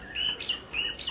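A one-legged bird in Tiruvarur district, Tamil Nadu, gives a quick series of thin, high chirps and tweets, fairly faint over a soft outdoor hiss, with no talking.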